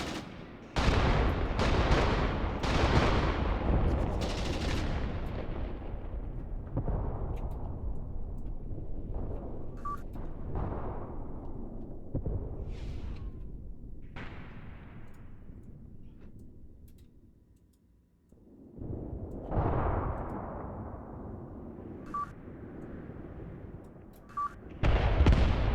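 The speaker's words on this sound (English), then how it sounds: "Lots of grenades going back and forth." Grenade blasts and gunfire in the war game Graviteam Tactics during a close-quarters infantry fight with melee, a steady barrage of sharp bangs and cracks, loud and dense, briefly easing before erupting again near the end.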